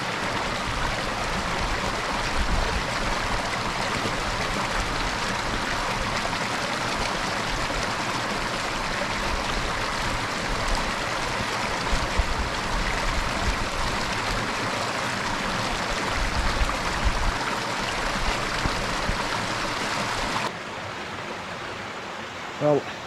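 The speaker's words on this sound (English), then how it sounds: "Lovely cascades coming down" A mountain stream in England's Lake District, a gill tumbling down in cascades, gives a steady loud rushing roar of falling water close by, continuous throughout and fading somewhat toward the end.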